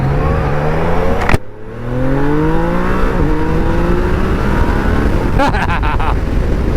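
A big motorcycle fitted with a quick shifter accelerates hard, its engine note climbing through the gears with a sharp break at each shift, loud and close throughout.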